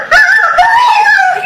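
A short, loud, strained squawk from a human voice imitating a rooster hit by a thrown shoe, a single wavering cry lasting about a second.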